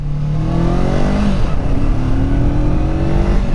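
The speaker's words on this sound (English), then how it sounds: "this motor revs up really happily" A motorcycle's 180-degree parallel twin engine revs freely, rising in pitch, dropping back briefly, then climbing again, loud and close with a smooth, steady drone.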